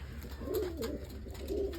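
A pigeon coos twice, low and throaty, the rolling calls close and fairly quiet over a faint background hum.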